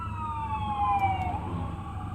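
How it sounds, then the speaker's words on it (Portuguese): A fire truck siren passes by on a road, its wailing tone sliding downward in pitch as it goes past, moderately loud over steady traffic rumble heard from inside a moving car. "Tá vindo um carro de bombeiro agora, vai passar aqui do lado esquerdo."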